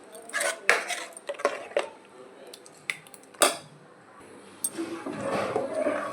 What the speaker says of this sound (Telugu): అడుగు పట్టకుండా బాగా కలుపుకోవాలి.